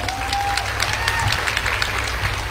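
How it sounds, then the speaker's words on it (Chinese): Sustained, dense applause from a large audience at a corporate gathering, loud and even throughout, with a faint hum and scattered voices beneath. "给所有的 B 家人一个热烈的掌声。"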